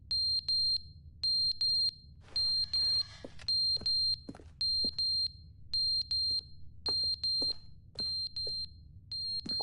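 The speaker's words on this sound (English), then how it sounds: "That is really quite a loud, annoying beep." A loud, annoying electronic beep in The Stanley Parable video game repeats in steady, evenly spaced pulses of high-pitched tone over a low background hum, with a faint scraping noise partway through.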